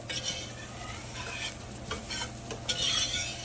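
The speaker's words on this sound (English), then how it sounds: "I'm gonna keep whisking it, moving it around because you don't want it to stick" Whisk stirring a roux in a pot for seafood stew, a steady scraping swirl with faint sizzling, moderately quiet and continuous with no talking.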